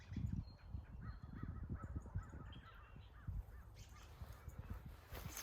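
Crows caw repeatedly outdoors in an evening wooded setting, the harsh calls faint and somewhat distant over low rumbling background noise.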